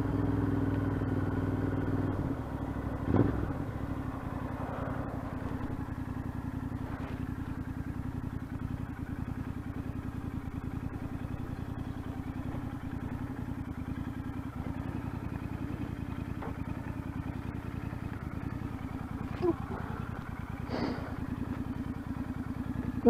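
Royal Enfield Interceptor 650 motorcycle with adjusted front spring preload, ridden near Devil's Bridge: a steady mid-pitched engine drone with wind rumble runs throughout, with a couple of brief clatters.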